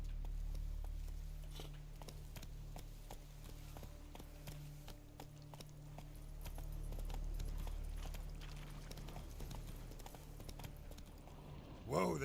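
A horse gallops in The Witcher 3 with a quick, continuous clip-clop of hooves under a low steady game ambience, ending in a short louder burst.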